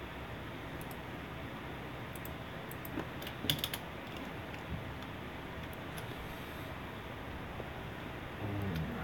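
Keys on a computer keyboard clatter in short bursts of quick taps, fairly faint against a steady background hiss, with no one talking.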